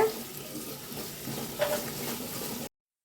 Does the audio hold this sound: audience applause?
no